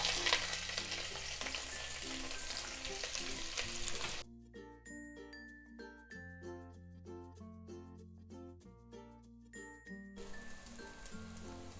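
Chopped onions fry in hot ghee with garam masala for veg pulav, a bubbling sizzle that is loud at first and then sits under steady background music.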